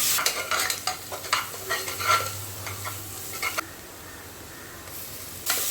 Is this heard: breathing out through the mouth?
no